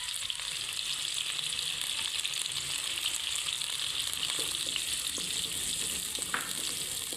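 Whole red chilies, white cumin and chopped green chilies frying in hot oil, a steady close sizzle and crackle that continues without a break, with faint stirring and no talk.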